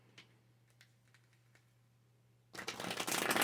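Tarot cards are handled with a few faint ticks, then a loud, close riffle shuffle of flapping cards begins and continues to the end.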